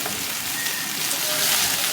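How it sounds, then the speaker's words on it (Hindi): Beef frying in a pan over medium flame for a sandwich, giving a dense, continuous sizzle that stays loud and close throughout with no pauses. "हम इसे अच्छा सा एक फ्राई देते हैं अराउंड 2 मिनट्स का"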